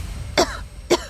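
Two short, sharp coughs from a woman, about half a second apart, close and clear against a quiet background.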